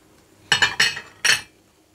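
A spoon stirs ground spices for a winter tea in a pot, giving four quick metallic clinks in two bunches, sharp and close against a quiet background.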